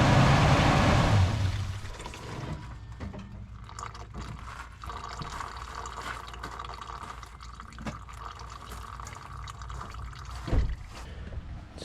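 Transmission fluid poured into the return line of a Toyota FJ Cruiser, a steady liquid gurgle and trickle into the filler, loudest at first then settling to a quieter continuous pour with a brief knock near the end.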